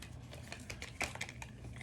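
Tarot cards shuffled by hand in a series of quick, soft riffling clicks and slaps, close and fairly quiet, with one sharper burst partway through.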